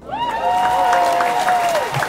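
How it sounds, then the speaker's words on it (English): A studio audience at a talk show applauds, with brisk clapping running throughout and a single high, sliding whoop rising above it near the start. "that's why I love the applause, because it throws people off"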